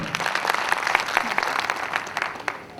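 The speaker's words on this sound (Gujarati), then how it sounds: "એક જોર તાળીઓ અમારા બધા માટે." An audience claps at an Ahmedabad success day event, dense applause with sharp individual claps standing out, fairly close and sustained throughout.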